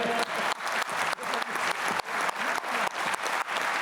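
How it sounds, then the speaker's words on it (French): Audience applause at an Olympic-themed New Year event with a dunk show, loud sustained clapping broken by brief regular dips, the crowd clapping close and continuous. "Ok, on peut les applaudir, s'il vous plaît."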